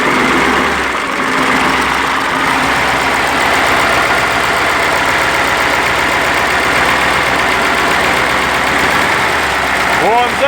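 A KamAZ truck diesel engine, with a knocking fault, runs loud and close after starting, a dense, steady rumbling idle that holds throughout.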